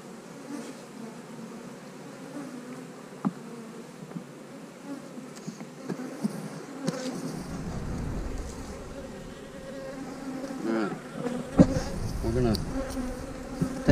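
Honeybees buzzing densely around an open hive while a queen cell is placed in a split, a steady close drone with occasional sharper passes and light handling noises.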